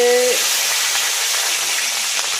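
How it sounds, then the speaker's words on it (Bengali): Pieces of fish fry in hot oil in a pan, producing a loud, steady broadband sizzle that runs close and unbroken throughout, with a brief voice heard at the very start. "বাকি যে দুটো মাছ আছে যে কপিস মাছ আছে সেই মাছগুলো ভেজে নেবো আমি"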